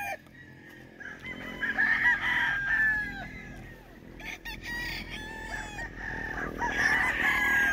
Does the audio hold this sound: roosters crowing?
yes